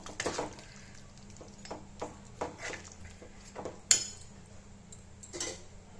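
Metal lid set onto a pot of pepper chicken simmering with a little water, with light clinks and scrapes of utensils and one sharp metallic tap, fairly quiet and close.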